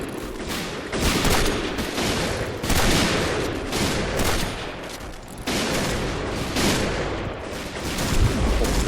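In the shooter game Point Blank, a sniper rifle fires a loud run of sharp shots in close succession, overlapping into a dense, booming barrage with brief lulls between bursts.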